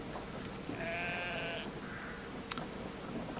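A sheep bleats with a wavering, drawn-out cry of about a second amid faint outdoor background noise on a farm, followed by a brief sharp click; no one speaks.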